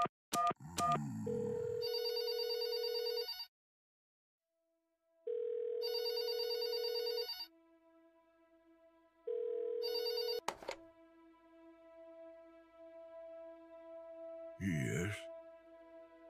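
Telephone in the video game There Is No Game: Wrong Dimension ringing in three repeated electronic bursts separated by quiet gaps, followed by a low sustained tone and a brief click, moderately quiet with no speech.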